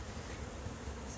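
Soft, steady buzzing of recently hatched honey bees at a hive, a low insect hum heard up close without voices.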